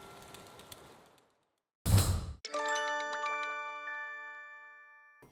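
In the video game Wednesdays, bright chiming bells ring out as a scene closes, following a brief whoosh, with clear tinkling tones that ring on and slowly fade.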